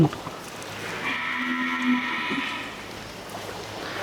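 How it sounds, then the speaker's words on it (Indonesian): Cattle in a farm shed give a drawn-out, near moo over a low background hum, with faint shuffling around it and no talking. "Nah, ini sapi yang ada di klaster atas."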